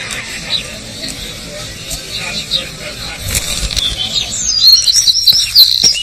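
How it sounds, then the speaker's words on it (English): Small birds chirp and tweet in a Cornish garden at Heligan, high thin calls scattered over a steady outdoor hum that grows livelier toward the end, with distant background noise and no clear speech. "Gregarious birds are known to flock together during a season of plenty."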